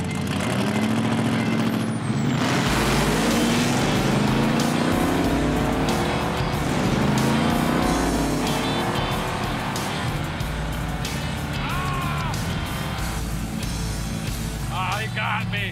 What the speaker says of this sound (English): I spun the tires really hard, but then drove past them at the top end